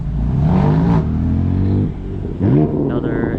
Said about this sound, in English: And we got the 1M leaving.